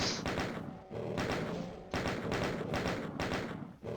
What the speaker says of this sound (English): A little bit of chain gun action.